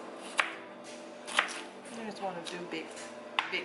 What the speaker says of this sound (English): Then just slice it down, however you want to do it.